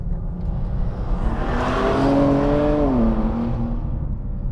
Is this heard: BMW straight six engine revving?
yes